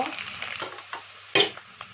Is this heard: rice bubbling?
yes